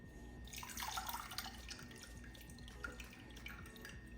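Water splashes and trickles into a blender for sea moss gel, a brief pour followed by light dripping and sloshing at close range.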